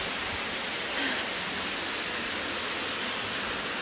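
A heavy rain downpour pours over Gurzuf in Crimea, giving a dense, steady hiss of water that stays at the same level throughout, with no voices.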